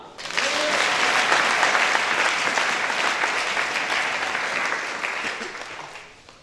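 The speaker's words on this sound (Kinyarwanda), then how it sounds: "Mumpera amashyi Imana" A congregation at a prayer service breaks into loud, sustained applause that holds steady for about six seconds, then fades away quickly at the end.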